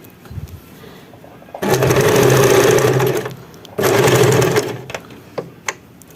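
A sewing machine stitches a homemade bedspread (divan cover) in two steady runs of about two seconds each, loud and close, separated by a quiet pause with small handling clicks.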